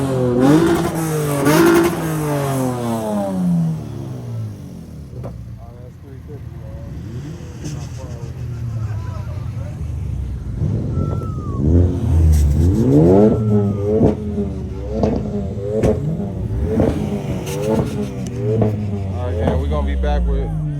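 JDM cars at a car meet in Japan rev their loud exhausts in repeated rising bursts and throaty idles, nearby and forceful, with people talking over the engines.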